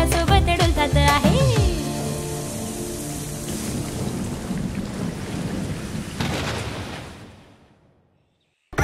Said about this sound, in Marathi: श्रावणात गरजत बरसत खूप पाऊस येतो आहे.